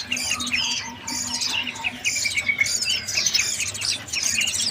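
Caged birds for sale at a bird market chirp and squawk busily together, shrill overlapping calls close by.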